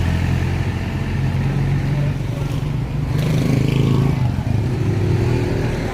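A jeep engine runs on the road with a loud, steady rumble throughout, like a ride inside or beside the vehicle. Its drone shifts slightly in pitch as it travels, and no one talks over it.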